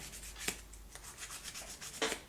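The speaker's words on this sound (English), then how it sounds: "So let me go off camera again to quickly sand this down" A small woodwind pivot reamer being sanded by hand with smooth sandpaper: faint, irregular rubbing strokes with a few sharper scrapes, close up and quiet, no voices.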